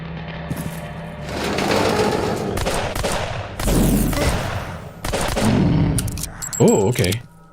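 Rapid gunfire and shotgun blasts from a shooter video game, loud and dense in clustered bursts with clattering effects between them, followed by a warbling electronic tone at the end.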